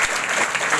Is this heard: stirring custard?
no